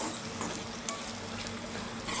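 Okra (bendakaya) frying in a pan while being stirred, with a steady, faint sizzle and occasional soft scraping under no talk, just before egg is added for a bendakaya egg fry.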